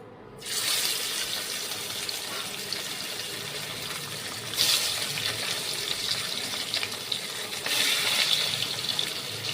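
Pieces of Gurjali fish being dropped one by one into hot oil in a kadai wok, a loud gushing sizzle that bursts up at the start and again twice as more fish go in, then hisses on steadily.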